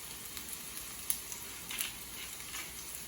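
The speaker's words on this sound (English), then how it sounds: "Onions go in first. They need to soften." Onions softening in a pan with a little salt hiss with a faint, steady sizzle, broken by a few soft clicks and scrapes, quiet and close with no talking.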